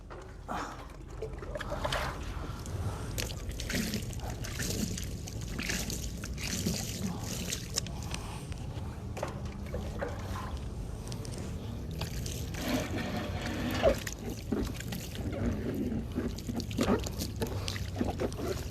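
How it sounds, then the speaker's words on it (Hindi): Water is poured and splashed while a dead body's face is washed, giving soft, faint trickles and dribbles that come and go at a low level close by. "मुंह धो दिया अच्छी तरह से"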